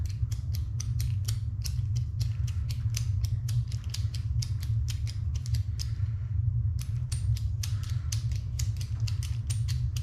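A bicycle crank arm bolt is torqued down with a torque wrench, producing rapid, crisp ratcheting clicks in steady runs with a brief pause, close by over a low steady hum.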